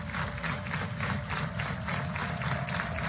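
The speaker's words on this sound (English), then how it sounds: "Listen to this crowd." Spectators at a Big 12 Tournament softball game between Oklahoma and Kansas make a steady, dense crowd roar with rhythmic pulses of cheering and clapping, filling the whole stretch without a break.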